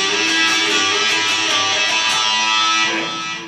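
An electric guitar plays a bright, sustained rock lick of two notes sounding together, ringing loudly and evenly before fading slightly at the end.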